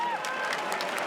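Crowd applause at a boxing event for Anthony Joshua versus Francis Ngannou, a dense steady wash of clapping from a large arena audience, with a commentator's voice over it.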